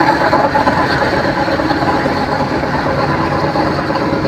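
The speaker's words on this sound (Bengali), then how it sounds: "আমাদের লঞ্চের সাথে পাশে একটা লঞ্চ আছে" A passenger launch ferry's engine on the Dhaka to Bhola route drones with a steady low rumble and broad hum, loud and continuous throughout without talk.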